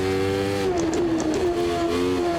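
Race car in the Automobilista 2 racing game accelerating hard, a loud steady engine note climbing through the revs with a brief dip midway, close and continuous with no talk over it.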